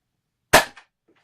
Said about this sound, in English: I'm just going to fire the 5 balls that came with it.